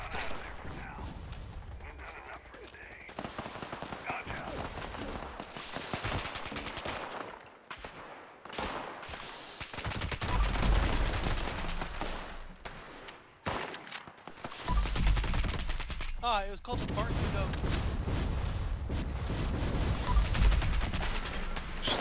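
Rapid bursts of gunfire rattle through a Fallout 76 Daily Ops fight, with dense volleys, machine-gun-like strings and heavier booms that come and go in waves over half a minute, while players talk now and then underneath.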